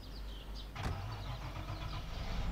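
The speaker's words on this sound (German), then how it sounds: "Ah, Motor startet." A car engine cranks and catches in the Mafia video game, a short burst of starter noise followed by a low running hum, alone with no talk.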